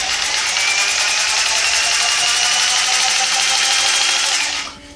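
DEKO variable speed jigsaw running unloaded at its first speed setting, a loud, close, steady high-pitched whir that holds constant and then winds down at the end, with no talking.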